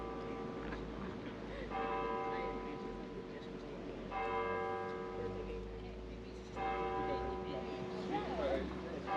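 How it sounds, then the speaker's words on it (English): Cathedral bells in Orkney chime the hour, three distinct rounds of ringing spaced a couple of seconds apart, heard from nearby outdoors over low ambient noise. "I managed to be by the cathedral just as the bells chimed the hour"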